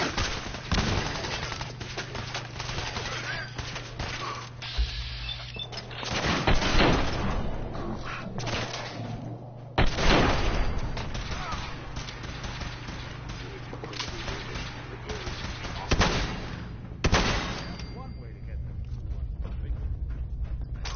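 Gunfire in the Fallout 4 video game, a series of loud shots and bursts with mechanical clanks between them, under game voices and ambient noise.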